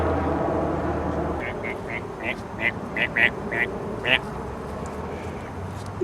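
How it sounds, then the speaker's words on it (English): Ducks quacking in a short run of about nine evenly spaced calls, fairly near, over a steady outdoor rumble like an engine or wind. "These are our stunt ducks."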